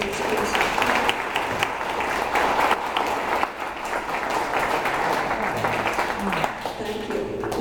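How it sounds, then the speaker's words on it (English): An audience applauds in a sustained round of clapping that fills the room, with voices mixed in underneath. "I'd like you to applaud our candidates."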